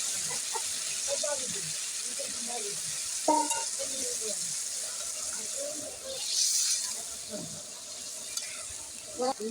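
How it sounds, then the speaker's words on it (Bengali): Water poured around the edges of a hot pan of duck curry hisses and sizzles steadily, with occasional clinks of the pan, and a few quiet voices talking in the background. "চার চারিদিকে কড়াইয়ের জল দিচ্ছি"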